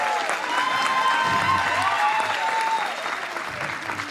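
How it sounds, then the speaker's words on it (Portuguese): Audience at a Brazilian seminar applauding councillor Elma Lopes, with sustained, dense clapping from a crowd that holds steady and then eases slightly toward the end. "a Elma merece palmas"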